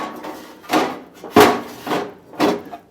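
A plastic ice bin tray slides back into a refrigerator's freezer drawer with several hollow knocks and bumps, one sharper thud near the middle.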